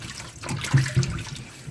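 Potatoes washed by hand in water with a splash of vinegar, a soft trickling and sloshing of liquid with a couple of slightly louder splashes, close up and with no talking.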